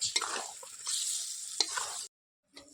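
Chicken simmering in a pan as ground spinach paste is stirred in for palak chicken, a steady close sizzle with spoon scrapes for about two seconds before it cuts to near silence and a faint return.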